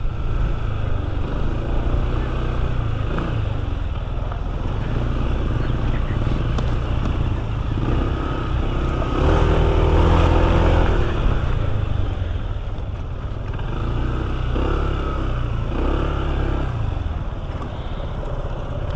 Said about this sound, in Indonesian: Dari kondisi diam terus digas, dia anteng aja gitu, naik aja, nggak ada beban ya.